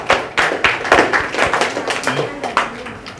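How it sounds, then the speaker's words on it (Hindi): Students at an Independence Day celebration in a coaching centre clap close by in a loose, uneven rhythm, individual hand claps standing out as the applause gradually thins. "इनके लिए अगेन एक बार आप लोग तालियां बजाइए"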